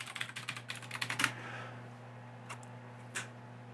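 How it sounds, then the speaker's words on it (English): Rapid keystrokes on a computer keyboard as a password is entered on a Linux login, a close, fast burst of clicks for just over a second, then quiet with two isolated key taps. "So if I type in my typical password here,"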